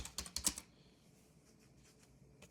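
Quick bursts of keystrokes on a computer keyboard, close and crisp at the start, then softer scattered taps in a quiet room, with one more tap at the end.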